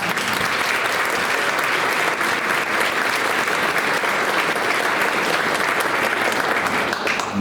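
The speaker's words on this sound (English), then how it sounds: "let's give her and One Iowa a round of applause" Sustained applause from an audience at an LGBTQ legacy leader awards ceremony, steady and dense throughout, close and full with no break.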